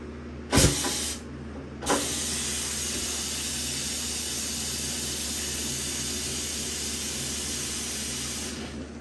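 Compressed air hisses on a Triumph NTC-950 tire changer in two short loud bursts near the start, over a steady background whoosh that carries on to the end.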